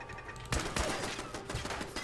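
Combat rifle gunfire in the video game Fallout 4: a short burst of several sharp, rapid shots at moderate level, with quieter game background around them and no voices.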